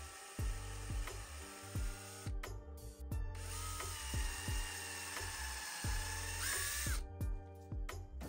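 A small high-pitched drill whines in repeated bursts boring pilot holes into a resin lightsaber part, stopping and restarting, with faint clicks and handling noises between runs.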